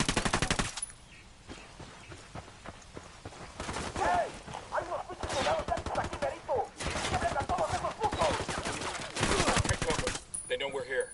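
Suppressed gunfire in the Ghost Recon Wildlands video game, heard as dense rapid bursts of muffled shots that come and go over several seconds, with voices talking among them.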